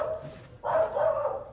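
A dog barks once at a Disney's Animal Kingdom outing, a short, fairly close, moderately loud bark standing out against quiet background murmur.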